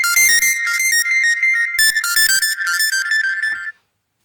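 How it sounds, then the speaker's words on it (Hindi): A phone ringtone sounds repeatedly, a bright electronic melody in short bursts that carries on for several seconds, loud and close, then cuts off abruptly. "फोन आ रहा था बार बार"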